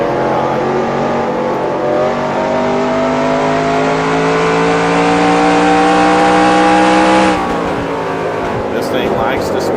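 A NASCAR stock car engine in NASCAR Racing 2003 drones at high revs with a steadily rising pitch, then drops off sharply near the end with a brief squeal as someone talks over it.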